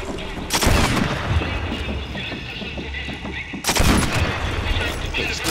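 Two loud, sharp gunshots crack out in Sniper Elite 4 at a winter market, each with a booming tail and echo, spaced a few seconds apart over quieter game ambience.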